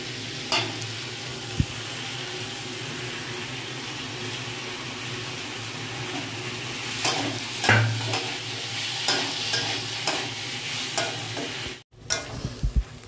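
Potato pieces fry with chopped tomato, green chili and ginger paste in a hot pan, a steady close sizzle broken by occasional scrapes and clinks of stirring, with a brief dropout near the end.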